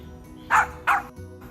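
A dog in a vegetable garden gives two quick, close, fairly loud barks, then a softer third sound, over a quiet outdoor background.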